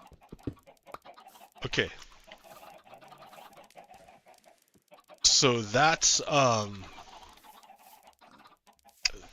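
Minecraft chickens crammed into a small pen give a few short in-game clucks and squawks, loudest in a burst partway through, with someone talking over the quieter stretches.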